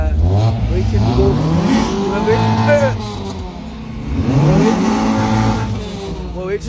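Cars rev and accelerate at a night street race event in Nazareth, Johannesburg, engines rising and falling in repeated swells, fairly loud and close, with crowd chatter and talk running underneath.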